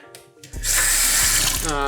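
Water runs steadily from a kitchen faucet with its aerator removed, a loud broad hiss that starts abruptly after a brief click and fills the rest of the clip.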